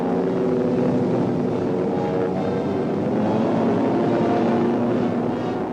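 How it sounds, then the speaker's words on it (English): A transport plane tows a World War II glider aloft, its propeller engines droning steadily and loudly throughout with no talking. "Towed by a transport, the glider goes aloft."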